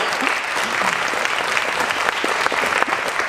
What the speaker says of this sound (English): Absolutely, round of applause.